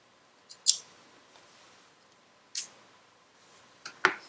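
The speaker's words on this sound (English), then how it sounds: "and then you just snip off the excess." Scissors snip off excess thread after hand stitching, making a few sharp isolated clicks spaced over several seconds, close but quiet against a near-silent background.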